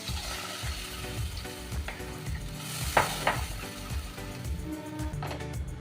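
Fried spice masala sizzles and bubbles after water is poured in, a close, busy frying hiss with rhythmic stirring and a sharper crackling burst partway through, no voices.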